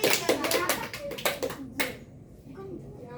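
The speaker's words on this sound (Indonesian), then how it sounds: "Tepuk tangan dulu semuanya." Children in a classroom reading lesson clap their hands together in a short burst of a few claps, then the room falls quieter as a voice speaks briefly.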